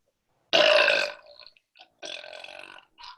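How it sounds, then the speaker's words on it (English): A girl lets out a loud, gravelly burp in a burping contest, one long strong belch followed by a shorter second burp and a few small trailing gulps. "That was really a solid burp."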